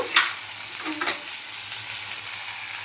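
Green chillies and onion pieces frying in a pan, with a steady broadband sizzle and a few spoon stirs scraping through it, close and fairly loud without any talking.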